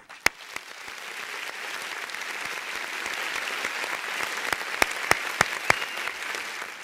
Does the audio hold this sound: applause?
yes